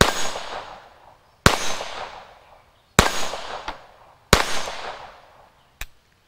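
Gunfire from a firearm: four loud, sharp reports spaced about a second and a half apart, each trailing off in a long reverberant decay, with a fainter crack or click after some shots.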